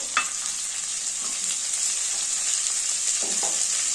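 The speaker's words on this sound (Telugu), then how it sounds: "మెంతకు కూర వేస్తున్నానండి. మెంతకు కూర కూడా బాగుంటుంది." Fenugreek leaves fry with onions in a hot pan, making a steady close hiss and sizzle with a few faint scrapes of stirring.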